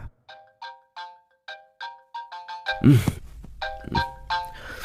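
A repeating electronic ringtone of an outgoing phone call, short tonal chimes in a steady pattern, briefly interrupted by a burst of noise and a voice midway.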